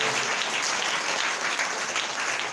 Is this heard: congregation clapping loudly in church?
yes